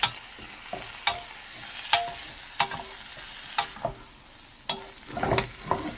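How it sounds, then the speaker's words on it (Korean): Seasoned greens for a Korean full-moon namul dish stir-fried in scallion oil: a steady low sizzle under repeated sharp scrapes and clacks of a utensil tossing the vegetables in the pan, close and without speech. "볶아볼게요."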